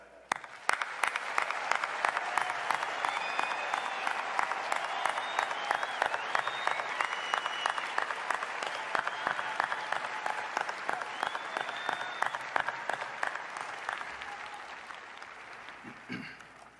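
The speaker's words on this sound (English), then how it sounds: "So please join me in a round of applause for all our graduates." Sustained applause from a large crowd of graduates and guests at a university spring commencement ceremony at UNC-Chapel Hill, steady and dense for about fifteen seconds before tapering off.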